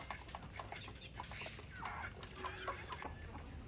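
Poultry farm chickens cluck softly in the rainy season, a low murmur of overlapping clucks and short calls with a steady background hiss.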